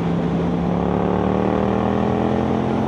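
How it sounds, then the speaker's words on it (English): A motorcycle exhaust drones steadily at highway speed, picked up by a Bluetooth mic on a DJI Osmo Action 4, a continuous low engine rumble mixed with wind noise and no pauses. "I wonder what this Bluetooth mic makes my exhaust sound like."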